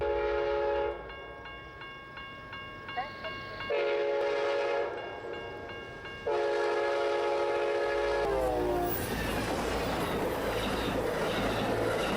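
A train horn blares in several long, loud blasts as the train rumbles past close by, ending in a roar of passing cars.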